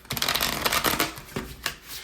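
Tarot cards being shuffled in a run of quick papery riffles and slaps, close and fairly loud, with no talking.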